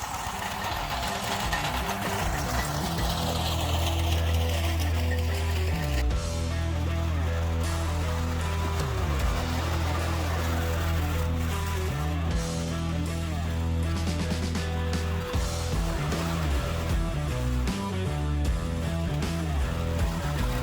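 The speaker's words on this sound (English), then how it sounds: "So I'm going to start the rotavator up" A garden rotavator engine runs steadily and close, chugging with a low, knocking throb. The pitch and load shift as the tines churn through the soil, and wind noise blows over the sound.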